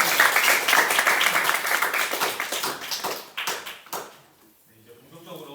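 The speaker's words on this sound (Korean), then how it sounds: "마지막 토론이면서 박수 한번 다시 쳐주세요." A debate audience claps together in a loud, dense round of applause that thins out and fades to near silence, with a voice heard near the end.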